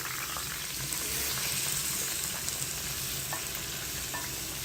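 500 grams of chicken sizzles loudly in hot oil with golden-brown fried onions in a pan, a dense continuous frying crackle heard up close without talk.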